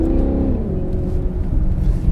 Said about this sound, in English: Listen to that exhaust, you guys.